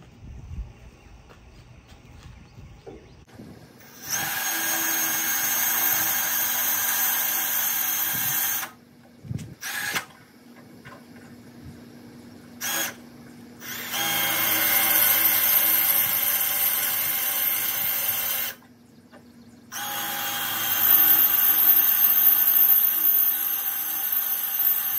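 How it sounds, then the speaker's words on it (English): A power drill bores out plug welds on a car body panel in several loud, high-pitched whining bursts, each a few seconds long, broken by short pauses and quieter handling noises. "I'm gonna actually drill out these 3 plug welds here"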